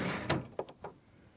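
An over-the-axle trundle drawer holding recovery gear slides out of the tray of a 2016 79 series Landcruiser, giving a short rattling clunk followed by a few lighter knocks and scrapes, close and alone.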